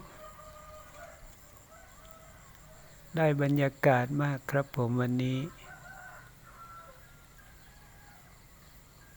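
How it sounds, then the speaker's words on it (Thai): A rooster crows before dawn in one loud, close burst of several seconds, with quiet dark surroundings before and after and someone speaking softly nearby. "มีเสียงไก่ขันบ้าง"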